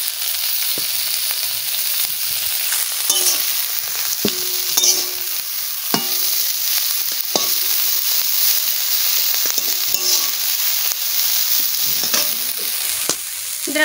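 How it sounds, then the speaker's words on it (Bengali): Leafy greens fry with shrimp and garlic in a pan, giving a steady, close sizzling hiss. The spatula scrapes and stirs it at intervals with short clacks, and no one talks. "শাক ভাজা বসাই দিচ্ছি।"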